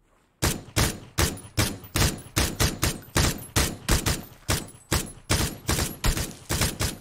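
Gunfire in PUBG, a long run of sharp, loud shots after a brief quiet start, firing in quick bursts and single cracks with short gaps between them, with no voices over it.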